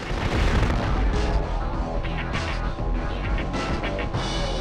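Mortar special weapon firing in Future Cop LAPD, a steady dense stream of low booming blasts and rumbling impacts layered over continuous game noise, loud and sustained with no clear gaps.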